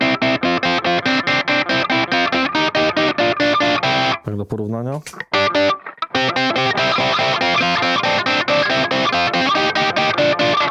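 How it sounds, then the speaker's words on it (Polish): Rhythm distortion preset on an electric guitar through a Fractal amp modeler, played without a booster for a slightly lighter tone: loud, tight chugging chords in a steady pattern, broken midway by a short pause with a few spoken words. "Kolejna scena to jest przester jakby rytmiczny, tylko że bez boostera, czyli jest troszeczkę lżejszy."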